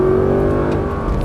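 An Audi R8 race car engine hums loud and close with a steady buzzing drone on a track, pitch holding briefly before settling as it builds speed.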